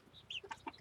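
Homestead chickens clucking, a few soft quick clucks close by in a short burst, faint and with no talk.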